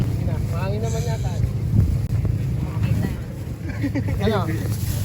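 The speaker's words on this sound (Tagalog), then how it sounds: "Mahangin naman yata." Strong wind buffets the microphone with a low, constant roar while people talk over it outdoors on the beach at Calatagan, Batangas, near water with a motor running.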